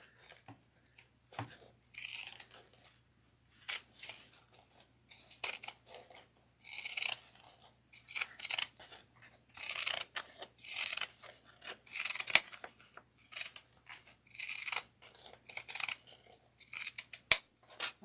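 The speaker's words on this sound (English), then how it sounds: "I'm trimming threads" Small scissors snip loose threads on a little quilted project, giving close, crisp, irregular cuts in short bursts with brief pauses in between.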